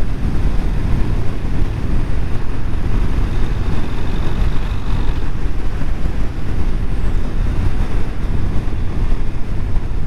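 Steady roar of wind buffeting the rider on a 2024 Harley-Davidson Breakout cruising with a group, a dense rush of low rumble and airflow that stays loud and constant throughout with no talk.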